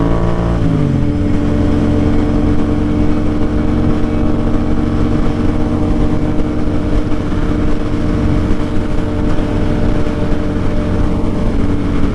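Several sport motorcycles (R3, R6, MT-07, FZ6) on a group ride through the Bronx, New York City, with engines droning loudly and steadily throughout, one bike rising in pitch near the start.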